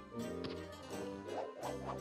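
A cartoon dog barks in a Looney Tunes video game, letting out several yappy barks and whimpers in an irregular run, with game music and effects layered underneath.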